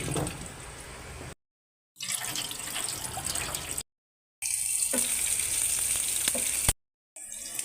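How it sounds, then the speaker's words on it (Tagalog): Hot water poured from a kettle over sliced bitter gourd in a bowl, a steady splashing hiss that stops and starts in several bursts with silent gaps between. "Buhusan ng mainit na tubig."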